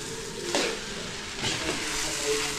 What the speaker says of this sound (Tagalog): Prito ng pusit, sarap ng prito.